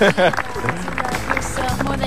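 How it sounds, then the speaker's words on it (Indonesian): A crowd in Semarang, Central Java, claps and cheers for a group of creative young people, producing a dense burst of applause with whoops that fades into ongoing clapping and babble. "Tepuk tangan untuk kalian semua."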